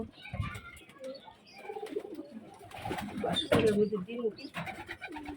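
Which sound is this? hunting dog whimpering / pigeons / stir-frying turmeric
pigeons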